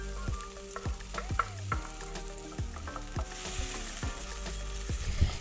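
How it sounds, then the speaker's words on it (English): Onions fry in an oiled pan as they are stirred, a soft, close sizzle with occasional spoon scrapes, set under steady melodic background music. "Then I'm going to add in the onions. And I'm going to give these a quick stir"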